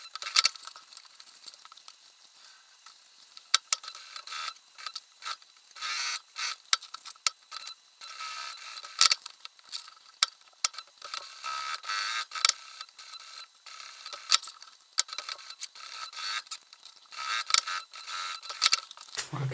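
Sewing machine stitching the front pieces of a softshell vest pocket together, a steady mechanical chatter in short bursts with brief pauses between runs, close and fairly quiet, with no voices.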